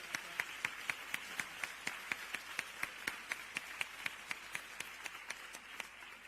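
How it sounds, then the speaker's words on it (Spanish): An audience applauds at a talk on gender perspective in the media, with crisp, steady clapping at moderate distance that keeps an even rhythm throughout, with no talking over it. "os pido un fuerte aplauso también para ella"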